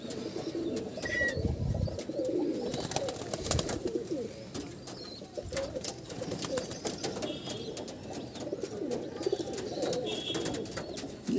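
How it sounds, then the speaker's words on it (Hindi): A soft, small-bodied Kaldum-line pigeon with deep-set eyes cooing close by in a Howrah loft, a low murmuring coo running steadily throughout with scattered clicks and rustles. "ये छोटे बदन की कबूतर है,"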